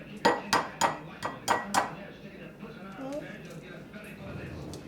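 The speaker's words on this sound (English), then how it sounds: "Now, you crack an egg" An egg cracked against a bowl edge, a series of about six sharp clinking taps in quick succession, followed by quieter handling sounds and light background noise.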